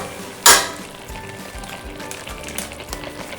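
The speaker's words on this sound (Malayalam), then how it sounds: "ഓക്കെ, നമുക്ക് ഇത് തിളയ്ക്കാൻ ഒന്ന് വിട്ടു കൊടുക്കാം." Chicken curry with chicken masala powder cooks in a pot with a soft, steady sizzle and bubble, opened by one sharp clatter, then low stirring and faint kitchen noise.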